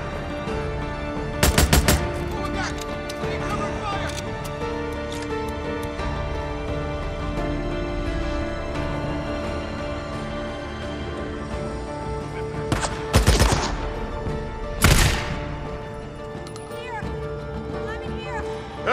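Gunfire in the Days Gone video game: three short loud bursts, one early and two near the end, standing out over a steady bed of game music and ambience.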